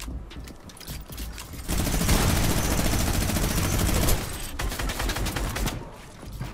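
Dense, sustained gunfire from an online shooter game, a loud continuous fusillade of rapid shots that swells in the middle, with sparse bursts before and after.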